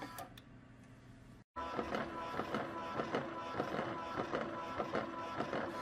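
A homemade film developing tank agitator, its shaft driven to turn a half turn back and forth: a soft mechanical whir with quick, regular clicking ticks after a brief dropout, steady and close.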